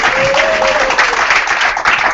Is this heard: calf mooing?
no